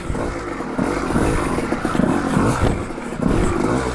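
A 1985 Yamaha Tri-Z 250 two-stroke engine revs hard while the clutch slips over rocks, a loud, close, rising and falling buzz with some clatter and scraping, and no voices.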